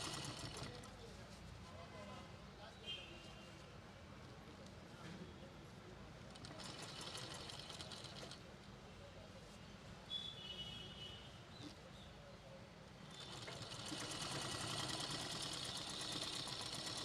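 A sewing machine runs steadily while stitching a small boy's school uniform shirt, a continuous close mechanical whir that swells in a few bursts, with faint background noise.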